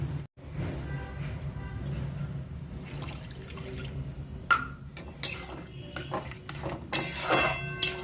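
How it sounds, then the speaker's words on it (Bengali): Tomato and spring onion curry being stirred in a pot, with metal utensil clinks and scraping against cookware and a brief splash as water is added, close and moderately quiet with no talking. "একটু নাড়াচাড়া করে জল দিয়ে দেবো।"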